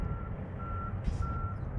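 Reversing beeps from a coal mining truck at a mine site in Collie, Western Australia, sound as a steady tone in three evenly spaced long pulses over low engine rumble and outdoor noise, with a short hiss partway through.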